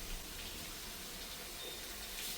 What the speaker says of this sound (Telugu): ఇప్పుడు ఇందులో మంచి వాటర్ పోసేసాము